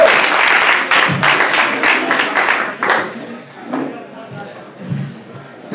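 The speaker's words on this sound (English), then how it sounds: "Start clapping right now" Comedy club crowd claps as a stand-up comedian takes the stage, a burst of rhythmic applause and scattered hand claps fading out after about three seconds, followed by shuffling and murmuring voices.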